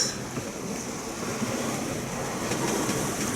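Wind blowing at about 20 knots across a sailboat at sea running on a double-reefed mainsail, a steady broadband rush with waves washing beneath, constant and fairly loud with no voices.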